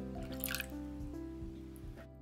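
Mirin and sake poured into a bowl of dorayaki dough ingredients: a soft, close liquid trickle with small splashy bursts over a steady low background hum, lasting about two seconds with no talking.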